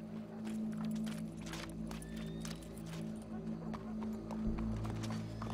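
Horse hooves clopping at a steady walking pace in Red Dead Redemption 2, soft and fairly close beneath a low ambient music bed and faint background sounds.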